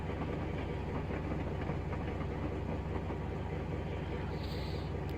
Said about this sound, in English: So the train itself has only just left the station